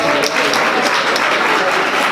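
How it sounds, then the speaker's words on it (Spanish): A crowd at a coronavirus expert talk breaks into loud, dense applause that holds steady throughout, with voices faintly mixed into the clapping. "Un aplauso."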